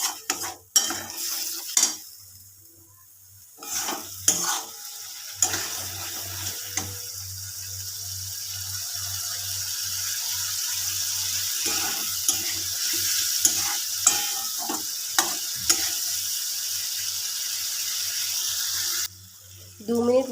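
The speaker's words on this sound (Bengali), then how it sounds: "মশলাটা আমি ভালোভাবে 2 থেকে 3 মিনিট কষিয়ে নেব।" Spice masala is stirred and fried in a pan, a continuous sizzle with repeated scraping and clinking strokes of a spoon, and someone talks over it.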